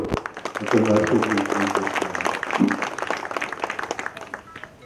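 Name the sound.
audience applause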